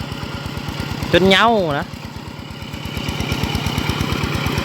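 A farm tractor engine chugs at a steady, rapid rhythm of low thumping pulses close by, and the beat continues without a break while a person briefly speaks over it.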